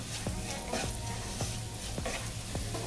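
A spoon stirs a poha laddu mixture with powdered cardamom and sugar in a pan, scraping in a steady rhythm about twice a second over a soft, continuous sizzle.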